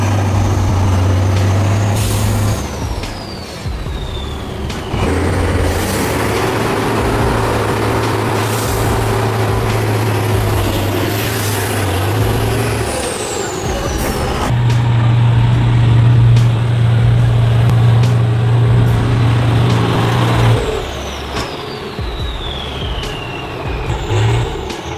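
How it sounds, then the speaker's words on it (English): A heavy off-road truck works through forest mud, its engine a loud continuous droning roar that rises and falls with revving, accompanied by whining pitch sweeps throughout. "The roar of the engine echoed throughout the forest"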